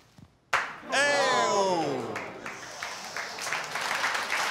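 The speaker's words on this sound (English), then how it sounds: "You're applauding" An audience claps and cheers during an earth science demonstration, a sudden burst of applause that swells and carries on steadily, mixed with a rising whistle-like sweep at the start.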